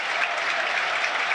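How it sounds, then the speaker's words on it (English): The crowd at a Norwich v Burnley football match applauds, a steady wash of clapping from many hands in the stands, fairly loud and continuous with no talk over it. "Applauded by the crowd."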